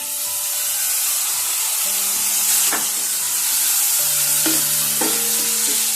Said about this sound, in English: you need to saute until the tomatoes soften up